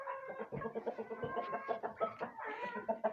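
Backyard hens and roosters cluck in a busy overlapping chorus, close and lively, with short rhythmic calls and no talking.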